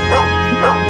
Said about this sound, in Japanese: めちゃめちゃ犬の声だけだ。